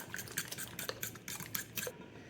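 A spoon stirring sourdough hot cross bun wet mix with an egg in a bowl, giving quick, light scraping and clinking strokes in a close, quiet series.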